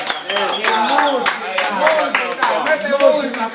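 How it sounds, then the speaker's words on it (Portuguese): Sharp hand claps ring out in a loose rhythm, mixed with voices talking over them at close range. "salva de palmas para o papai."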